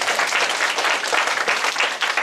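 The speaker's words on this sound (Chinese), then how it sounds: "拍手，我们来" Audience applause at a lecture, dense continuous clapping filling the whole stretch at steady volume, with no voices over it.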